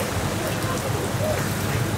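Steady hiss of rain pouring down, close and dense, with a faint voice mixed in underneath.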